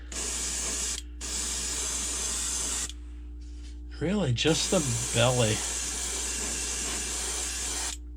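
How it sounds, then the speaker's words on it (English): A spray gun sprays pearl white paint onto a jointed fishing swimbait, hissing in long steady bursts with brief pauses, and a person speaks briefly in the middle. "All right, we're spraying."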